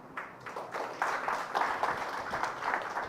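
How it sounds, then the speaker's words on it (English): A church congregation claps for a boy during a sermon, a fairly faint, scattered burst of applause lasting about three seconds with some voices mixed in. "But can we give a clap for that boy?"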